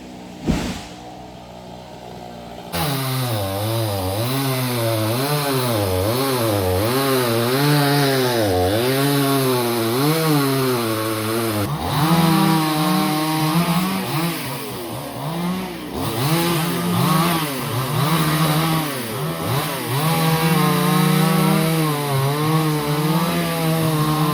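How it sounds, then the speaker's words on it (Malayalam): A chainsaw cuts down a teak tree at a rural home. After a quiet opening, the engine starts and runs loud and close, its pitch wavering steadily as the blade loads and eases through the wood. "അങ്ങനെ നമ്മുടെ തേക്ക് മുറിച്ചോട്ടോ"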